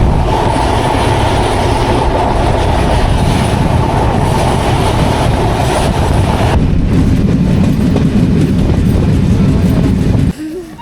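Inside a passenger train on the Dhaka to Faridpur line, a loud continuous rumble and rhythmic wheel clatter fill the carriage, the tone shifting partway through before the noise drops sharply at the very end.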